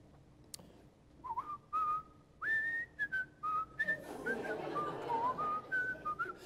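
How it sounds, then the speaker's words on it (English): A person whistles a hymn melody, clear and close, in a series of sustained and sliding notes with short breaks between phrases, with no talk. "I was whistling a hymn"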